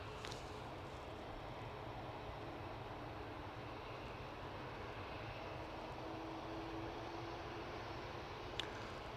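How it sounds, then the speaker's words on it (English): An Ethiopian Airlines Airbus A350 departs Manchester Airport, bound for Geneva: a steady, fairly distant jet engine roar holds evenly throughout, with no talk. "So here we go, Ethiopian A350 off to Geneva."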